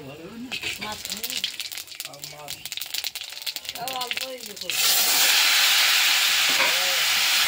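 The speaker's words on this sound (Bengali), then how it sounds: "কড়াইতে দিয়ে দিচ্ছি কচু, কচু দিয়ে রান্না হচ্ছে" Taro pieces go into hot oil in a wok on a broken stove. After a stretch of rattling and someone talking, a loud, steady, broad sizzling hiss bursts up and holds to the end.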